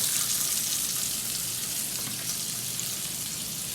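Embutido, a Filipino meat loaf, browning in a frying pan gives a steady, close sizzle and hiss that holds evenly throughout without any voices.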